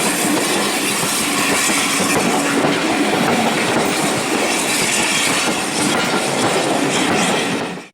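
Train on the preserved Dean Forest Railway at Lydney Junction, a continuous broadband rumble and rattle of wheels on track, steady and fairly loud for several seconds before cutting off abruptly, with no voices.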